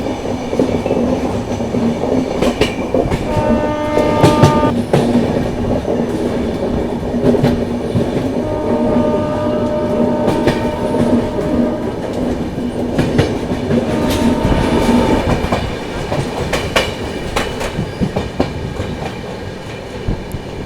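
A passenger train on the Dwarka to Mumbai journey rumbles loudly and continuously, with rhythmic wheel clatter over rail joints and occasional faint squeals, heard from inside the carriage.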